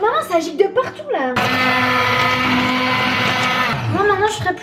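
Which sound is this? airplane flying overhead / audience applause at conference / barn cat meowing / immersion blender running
immersion blender running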